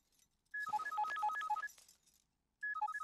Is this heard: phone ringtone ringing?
yes